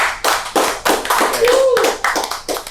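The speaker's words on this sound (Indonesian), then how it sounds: "Tepuk tangan dong, audiens." A talk show audience claps in several quick bursts of applause, loud and near, with a host's voice talking between and over the clapping.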